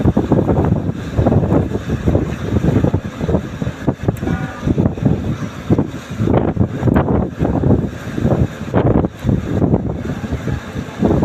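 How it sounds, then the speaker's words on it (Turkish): Strong wind buffets the microphone in loud, uneven gusts, with a rumbling roar throughout. "şiddetli de bir rüzgar var"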